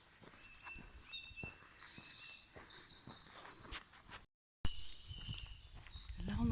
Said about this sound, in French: Là, on entend les oiseaux.